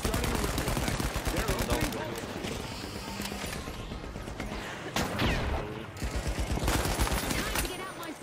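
Dense, continuous video game gunfire from The Finals, with rapid automatic bursts and loud shots layered over busy combat noise, while a voice talks over the action.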